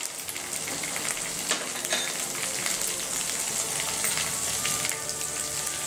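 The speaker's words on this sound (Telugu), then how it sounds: "ఇవన్నీ కొంచెం పచ్చివాసన పోయేంత వరకు ఫ్రై చేసుకోవాలి" Green chili paste with ginger-garlic paste, turmeric and spices sizzles steadily in a pan for palak paneer, a dense continuous crackle with occasional stirring scrapes.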